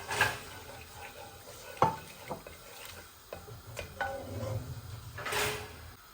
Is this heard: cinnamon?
yes